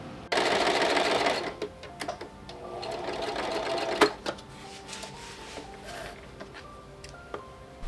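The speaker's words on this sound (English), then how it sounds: "we're going to sew the 2 of them on the back together to create the back" Sewing machine stitching the back seam of a Viking apron dress, a loud fast whirring burst at the start, then a slower second run and scattered clicks of fabric and machine handling.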